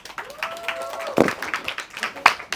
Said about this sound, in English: give a round of applause for my brother